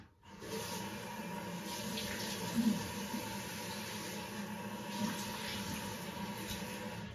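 A running tap splashes water steadily over a coticule sharpening stone being rinsed, a continuous close hiss and patter with a few brighter splashes.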